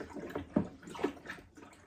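Cold water is poured into a mead brew, giving a brief, steady splashing pour with small gurgles, moderately close and fairly quiet.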